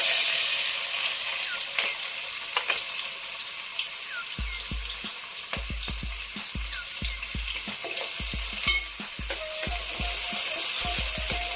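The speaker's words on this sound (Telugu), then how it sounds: "కాగిందండి, ఆయిల్ కాగింది. ఉల్లిపాయలు వేసుకున్నాం." Onions fry in hot oil for a fish curry, a loud, steady hiss of sizzling close up, with a run of rapid clinks and scrapes from stirring partway through.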